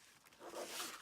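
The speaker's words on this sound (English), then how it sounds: "And open it up. The zipper is super smooth." A zipper slides open on a leather or pleather pouch, a quiet, short rasping pull that grows a little louder over about a second, close up with no talking.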